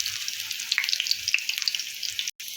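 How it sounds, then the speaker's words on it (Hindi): Suji potato snacks frying in hot oil, a continuous bright sizzle with small crackles and pops, close and steady, briefly cut off near the end. "नीचे से काफ़ी अच्छे से फ्राई हो चुके हैं।"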